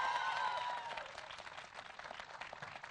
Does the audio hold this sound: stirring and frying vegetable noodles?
no